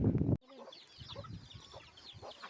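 Backyard hens being given water in the morning, a short loud burst of noise at the start followed by soft, scattered clucks and low murmuring calls from several birds close by.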